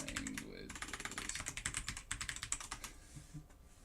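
Typing on an Alienware AW768 keyboard: rapid, loud, clicky keystrokes in a fast steady rhythm, close up, with light talking underneath.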